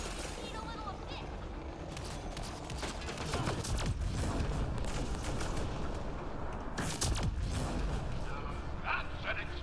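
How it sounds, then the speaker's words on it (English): Gunfire and explosions from the Mass Effect: Andromeda video game, a dense stretch of rapid shots and bursts with a louder blast midway, with a person talking over it. "That's an explosion!"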